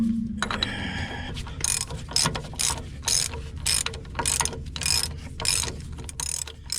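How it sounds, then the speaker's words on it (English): A regular hand ratchet tightens bolts while building a roller rack, giving repeated bursts of rapid clicking close to the mic, each stroke a quick run of pawl clicks separated by short pauses, with no talking. "We'll just go with a regular ratchet and get them done."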